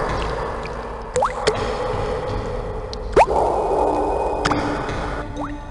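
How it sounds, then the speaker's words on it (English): Water splashes and drips in The Famous 5 adventure game, a soft continuous wet wash punctuated by a few sharp droplet plinks and ticks, with no talk. "If only the splashing wasn't so loud."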